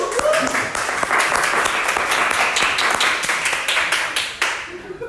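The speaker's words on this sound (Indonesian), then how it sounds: "tepuk tangan dulu" A university class applauds a student, a dense run of many hands clapping close by for several seconds before tapering off at the end, with no one speaking over it.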